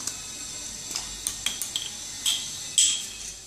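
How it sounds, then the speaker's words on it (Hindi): Chinese bhel is tossed with red chilli sauce, soy sauce and vinegar in a bowl, giving faint scattered clinks and scrapes of a spoon against the bowl, a few sharper taps standing out over a quiet background. "और अच्छे से इसको मिक्स कर देंगे।"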